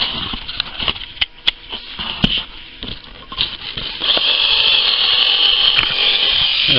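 A modified cordless electric shaver run at doubled voltage buzzes with a high whine and scratchy crackles as it cuts, growing steadier and louder in the second half, close up.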